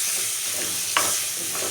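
Coriander is stirred into tomato chutney in a pan over a high flame, giving a steady close sizzle with one brief scrape of a spoon midway and no voices.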